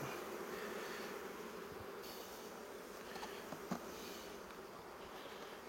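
Honeybees swarm and buzz in a dense, steady drone around an open hive during a beekeeping inspection, close and continuous with a few nearer passes.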